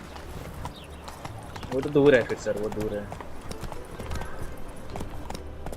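The horse Roach galloping in The Witcher 3: Wild Hunt, a rhythmic clip-clop of hooves running under a voice talking over the game, with a brief whinny-like burst in the middle.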